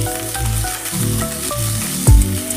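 Curry leaves sizzle in hot oil with cinnamon, cloves, cumin and fennel for a paneer gravy, a steady crackling fry with a sharp, louder burst near the end, close and alone.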